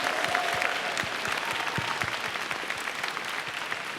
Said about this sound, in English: so round of applause to